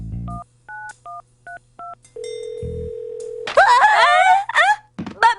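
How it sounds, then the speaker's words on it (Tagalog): A push-button phone is dialed, a run of short two-tone DTMF beeps followed by a steady tone and a thump, after which people talk in a cartoon setting. "Ready ka na? Idadial ko na."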